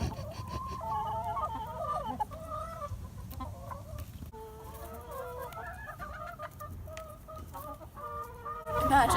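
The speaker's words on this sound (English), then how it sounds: "These are rescue chickens, taken from a factory farm." Rescue chickens from a factory farm clucking outdoors among trees, several hens making repeated overlapping clucks and calls, close and fairly loud, with a sharper squawk at the end.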